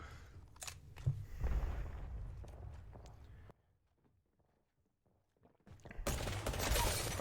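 Gunfire in the video game Apex Legends, with an Octane shooting into a stairwell: sharp cracks and bursts under game noise, a stretch of near silence, then a loud dense burst at the end.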